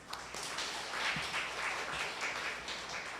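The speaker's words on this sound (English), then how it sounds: "Let's give her a round of applause." Audience applause after a speaker introduction at an indigenous language rights policy brief launch, a steady, moderately faint wash of many hands clapping throughout, with no talk over it.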